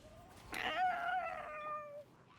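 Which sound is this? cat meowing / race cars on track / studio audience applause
cat meowing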